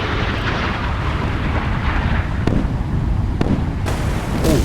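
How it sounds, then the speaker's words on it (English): A warship explodes and burns in the naval combat game Sea Power: a dense, roaring rumble of blast and fire held at steady loudness, with a few sharper cracks cutting through near the end, no voices. "the whole friggin' midships blew off"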